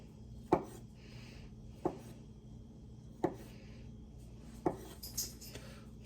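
A kitchen knife cuts through vegetables for a focaccia topping, giving four sharp, evenly spaced chops against a board with soft rubbing between them, close and clear, with no talk.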